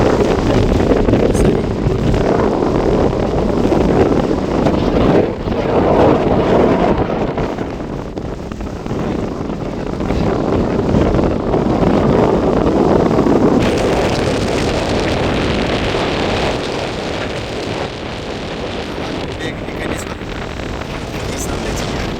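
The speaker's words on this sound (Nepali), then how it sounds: "निकै नै हावा चलिरहेछ।" Strong, gusty wind roars across the microphone on a cruise ship at sea near Jeju Island, with a faint ship engine drone underneath.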